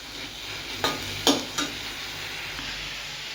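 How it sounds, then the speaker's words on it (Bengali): Garlic and dried chili tempering sizzling in hot oil, a steady close hiss broken by a few sharp clinks of a spoon stirring the pan. "রসুন ফোড়ন দিয়েছি আর শুকনো লঙ্কা ফোড়ন দিয়েছি।"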